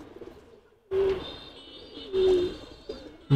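A single red khaki pigeon gives two loud, close coos after a quiet start, with a softer call near the end and no talk.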